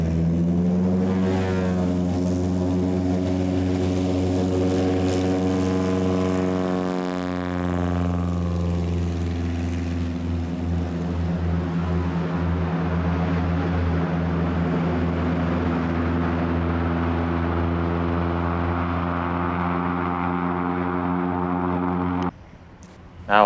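A Cessna light propeller airplane flies overhead, heard from the ground near a gravel bar, a loud steady droning engine with a strong harmonic buzz that shifts in pitch as it passes, then cuts off at the end.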